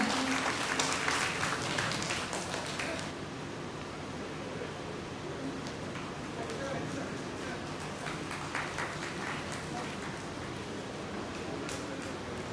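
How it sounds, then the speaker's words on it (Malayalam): Audience applause at an annual function held by Karunamritham, sustained broadband clapping that is loudest at the start and then settles into a steady, fainter patter that lasts throughout. "നമ്മുടെ ഒരു സന്തോഷം കയ്യടിയിലൂടെ നമ്മൾ കൊടുക്കണം"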